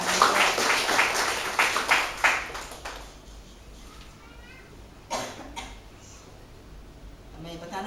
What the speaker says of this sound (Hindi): क्यों ना हम ताली बजा के प्रभु को धन्यवाद दें।